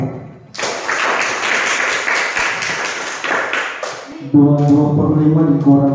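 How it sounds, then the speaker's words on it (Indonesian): Classroom applause for a student group during an Indonesian primary maths lesson: a sustained burst of many hands clapping, close and loud, ending in a rhythmic tapping or clapping pattern. "tepuk tangan untuk kelompok 4"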